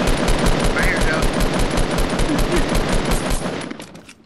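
Fortnite gunfire: a fast, steady stream of automatic shots rattling loud and close for several seconds, then tapering off at the end.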